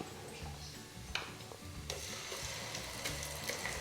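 Freshly ground masala hitting golden-brown fried onions in a pan for chicken roast, a continuous close sizzle with scattered stirring clicks and scrapes.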